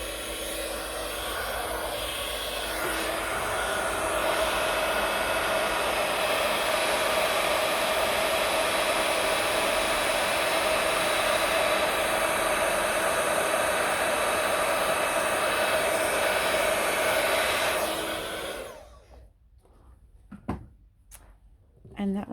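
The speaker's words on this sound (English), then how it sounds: "And I'll just turn the heat gun on again." A heat gun blows steadily to melt clear embossing powder on a flower notecard, a loud continuous whooshing roar that runs for most of the stretch before cutting off, followed by a few faint handling clicks.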